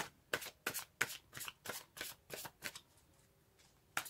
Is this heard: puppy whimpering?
no